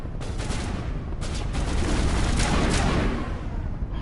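Gunfire from a single-shot assault rifle in a video game, heard as dense, loud bursts of shots that blur into sustained booming rumble with no gaps, with no voices.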